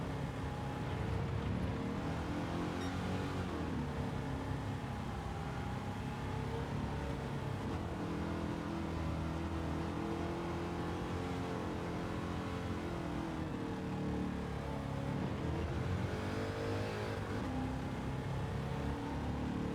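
A 1963 Corvette C2 Le Mans race car in Gran Turismo 7 roars steadily around the track, its engine droning and rising and falling in pitch through gear changes and corners, loud and continuous.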